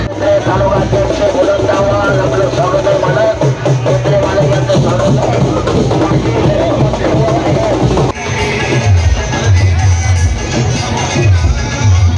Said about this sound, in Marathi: यावेळी विविध घोषणांनी सारा परिसर दणाणून सोडला होता